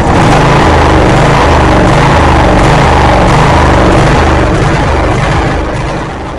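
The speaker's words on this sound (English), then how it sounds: "It's cranking up and running better than it was." A riding mower engine with a freshly cleaned carburetor cranks and then runs, a loud steady low-pitched chug that keeps a regular rhythm close by before easing off slightly at the end.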